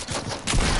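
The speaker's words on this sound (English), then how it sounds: "Why did my shotgun fucking shoot?" A shotgun fires in a video game, giving a short, loud, dense burst of gunfire.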